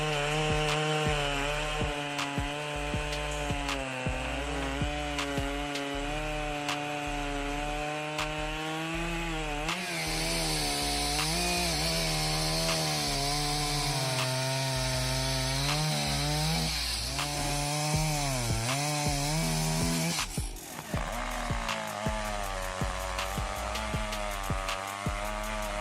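A chainsaw cuts through large wooden logs, its engine holding a loud, steady whine that shifts pitch as the bar bites and eases through the wood, running continuously with a brief break near the end.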